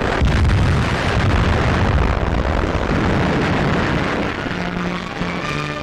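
A Bloodhound Mk. I missile without a warhead strikes its target during a 1958 test at Woomera, South Australia: a sustained, loud roaring rumble that fills the clip and eases slightly toward the end.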